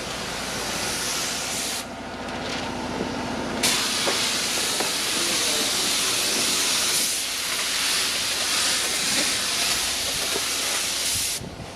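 A spray gun painting a hobby stock car body, a loud, continuous hissing spray close by with a brief pause near the start before the steady hiss resumes.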